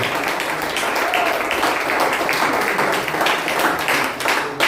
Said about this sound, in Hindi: से पिताओं के लिए क्यों ना जोरदार तालियां बजाएं